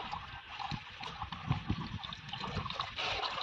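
Water pouring and trickling into a bucket during village tank cleaning, a continuous splashy patter with some clinks, fairly close and steady for a few seconds with no talk.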